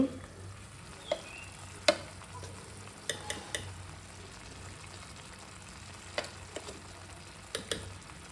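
Homemade vangibath spice powder added to a frying pan and stirred, with scattered spoon clicks and scrapes over a soft steady sizzle; no talking.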